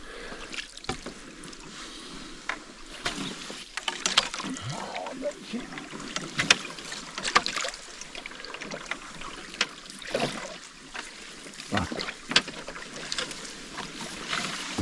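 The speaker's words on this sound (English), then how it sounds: "Hoping we find some deeper water. A little channel through here so I don't have to drag this damn boat." Hull of an aluminum-style hunting boat scraping and dragging through shallow water in an Alaskan river channel during a moose hunt, with irregular scuffs, splashes and sloshing bursts, close and moderately loud, with wind noise and no talk.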